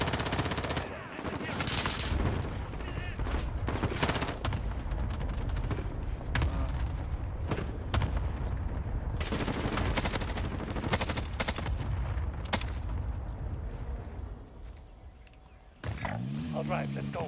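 Heavy gunfire and explosive artillery bursts from a cluster strike in Call of Duty Warzone, dense rattling shots and booms running almost continuously, loud and close, with players talking over the barrage.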